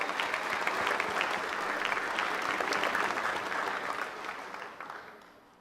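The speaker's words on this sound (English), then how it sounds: "How about the big round of applause for our graduating class of" A large graduation audience gives a sustained round of applause for the class of 2023 at a commencement ceremony, dense steady clapping that tapers off near the end.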